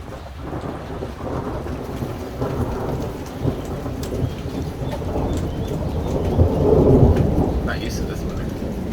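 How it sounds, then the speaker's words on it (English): Hail pounding down during a thunderstorm in the Italian mountains, a dense constant patter on surfaces with deep thunder rumbling and swelling louder toward the end. "we just realized that it is actually hailing"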